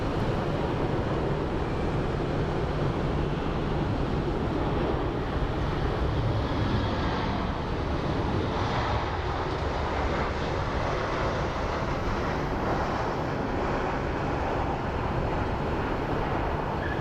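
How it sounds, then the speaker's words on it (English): A Southwest airliner lands at Phoenix Sky Harbor on a hot, humid day: a broad, steady roar of engine and rushing air holds for seventeen seconds without a break, heavy and buffeted by wind. "Nice landing by the southwest."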